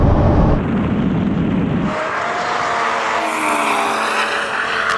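A tuned hot hatch races by at full throttle, a loud roaring pass with rising revs and shifts through gear changes, close to the microphone with strong wind noise and no talk.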